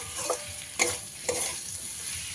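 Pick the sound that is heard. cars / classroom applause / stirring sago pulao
stirring sago pulao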